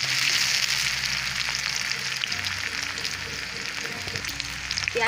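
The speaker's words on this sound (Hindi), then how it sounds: "प्याज को भून कर ब्राउन कर लेंगे।" Sliced onions fry in a pan for a spiced dahi jackfruit curry, giving a steady, close, dense sizzle that continues without letup and with no talk over it.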